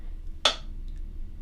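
One crisp finger snap rings out, fairly quiet and close, over a low steady background hum.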